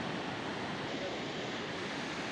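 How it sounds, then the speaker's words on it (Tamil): Steady, loud rush of flowing water, a continuous broadband roar with no pauses and no voices. "பாருங்கள் எப்படி ஸ்பீடாக வருது பாருங்கள் தண்ணி"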